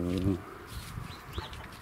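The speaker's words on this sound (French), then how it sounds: "vous voyez les poules qu'on a achetées, elles commencent à sortir" Hens recently bought for a home garden cluck briefly at close range, with a few short fowl calls over quiet outdoor background and some faint voice-like sound.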